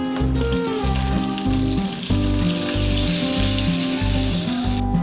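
Garlic, dried red chillies and curry leaves sizzle and crackle loudly in hot oil as a tempering for cabbage gongura roti pachadi, a steady dense frying hiss running throughout with no talk.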